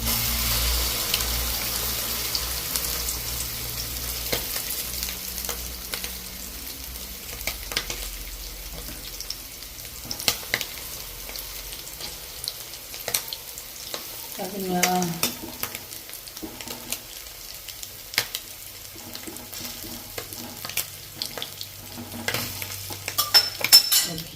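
A beaten egg and pepper mixture is poured into a hot pan and fries for a while. The sizzle is quiet and continuous, broken by scattered clinks and stirring, with a brief splash of water in the middle.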